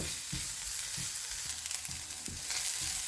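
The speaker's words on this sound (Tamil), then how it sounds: "ஒரு டீஸ்பூன் வந்து இஞ்சி பூண்டு பேஸ்ட் ஆட் பண்ணிக்கலாம் நல்லா வதக்கி விட்டுக்கலாம்" Onion and ginger garlic paste sautéing in a pan, a steady close sizzle with intermittent soft scraping knocks from stirring, no voices.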